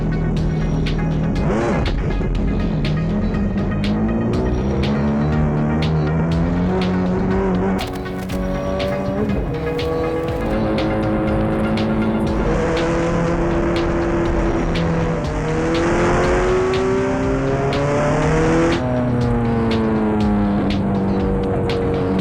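A car cruising at high speed on an unrestricted stretch of the German Autobahn, with a steady engine and road drone that rises and falls through gear changes, heard continuously from inside the cabin.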